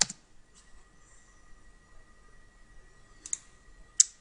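Computer mouse clicks on a Windows Server 2008 machine: a few sharp, isolated clicks, one at the start and two close together near the end, in an otherwise quiet room.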